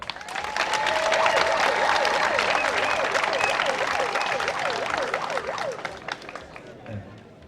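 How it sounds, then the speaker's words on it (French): A large outdoor crowd at a political speech in Gabon applauds and cheers steadily and loudly. A whistle or shrill call rises and falls through the middle, and the noise fades toward the end. "je voudrais que nous leur réservions des acclamations spéciales"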